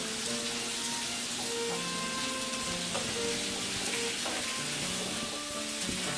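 Quince pieces fry in hot oil dusted with turmeric, a steady close sizzle and crackle running throughout, with faint stirring clinks and no voices.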